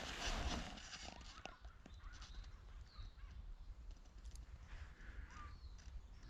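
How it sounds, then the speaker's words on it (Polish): Gulls call faintly in the distance over steady outdoor background noise during a spring walk in a forest, with occasional short cries rising above the ambient hum. "O, mewy słychać."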